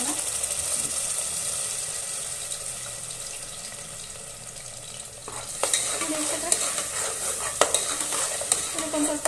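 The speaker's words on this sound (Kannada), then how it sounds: "ಸೇರಿಸ್ಕೊಂಡು ಒಂಚೂರು ಅದನ್ನು ಹಸಿ ವಾಸನೆ ಹೋಗ್ಕೊಂಡು ಒಂಚೂರು ಫ್ರೈ ಮಾಡ್ಕೊಳ್ಳೋಣ." A ground paste of onion, garlic and ginger frying, first a soft steady sizzle, then louder bursts of spatter with sharp scraping strokes as it gets stirred.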